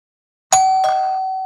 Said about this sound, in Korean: 초인종이 울렸습니다.